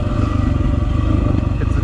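A motorcycle engine idles going down a rough hill, with a steady, throbbing low rumble close by, and a person talks over it.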